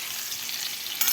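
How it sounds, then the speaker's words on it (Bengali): Pointed gourd (potol) frying in a pan, a brief bright steady sizzle that flares slightly louder near the end. "আর এদিকে পটল ভাজা বসিয়ে দিয়েছি"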